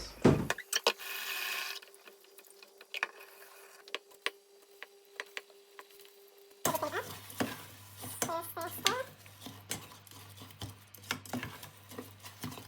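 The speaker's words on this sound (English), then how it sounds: "stirring the rice continuously to avoid the rice from sticking at the bottom" Jollof rice being stirred steadily in a cooking pot, Ghanaian style, giving soft scraping and tapping strokes close by, with a low background hum entering partway through.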